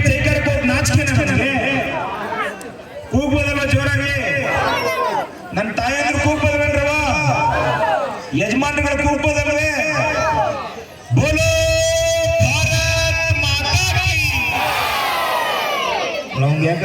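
At a village temple fair, a large crowd repeatedly roars victory chants for Mother India, loud rhythmic group shouts led by a speaker, each cry rising and falling in waves with brief pauses between.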